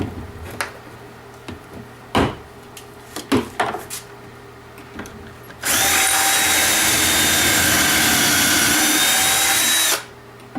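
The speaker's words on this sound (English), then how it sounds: "and then simply drill" A few scattered knocks and clicks, then a loud, steady power drill whirs into wood for about four seconds before stopping.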